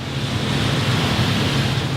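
Hard rain pouring outside in Manila, a loud, continuous broadband hiss and rumble like heavy wash, steady throughout with no voices.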